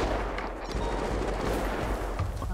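Dense, overlapping gunfire fills a police shootout in GTA 5 roleplay, a constant loud crackle of shots and blasts with no clear gaps.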